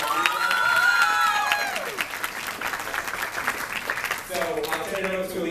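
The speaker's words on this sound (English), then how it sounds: "give him a round of applause" A crowd gives a round of applause, a continuous wash of clapping with some cheering, while voices talk and a few tonal whoops or shouts rise over it.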